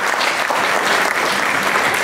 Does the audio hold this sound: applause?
yes